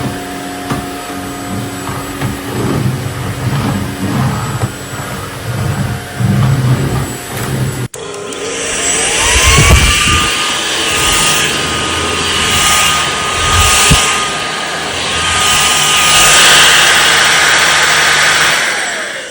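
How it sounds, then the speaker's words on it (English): A vacuum cleaner roars steadily after a sharp switch-on, its whine rising to a constant pitch and holding loud and near for many seconds. "So the other nifty thing with this vacuum cleaner"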